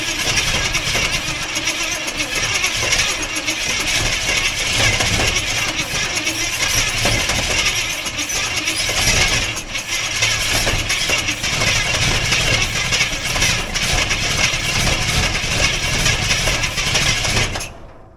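A Jeep Cherokee Chief that is having running issues grinds on its starter in one long, loud, unbroken cranking and rough engine run lasting about seventeen seconds, then cuts off abruptly; no talking.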